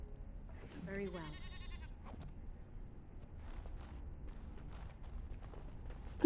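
A single wavering goat bleat sounds early in Dragon Age Origins, followed by quieter ambience with soft footsteps and talk over the top.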